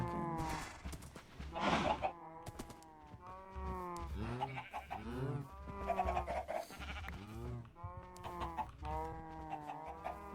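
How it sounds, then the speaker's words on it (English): Chickens in the video game Minecraft, with repeated clucks and bleat-like animal calls in an irregular, fairly close series, with no talk over them. "Ooh, chicken. More chicken. More chicken."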